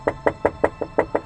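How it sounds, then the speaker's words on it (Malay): Knuckles rap on a bathroom door in seven even, sharp knocks, close and loud, with short regular gaps and no voice. "Pintu bilik mandi diketuk Datin Rose."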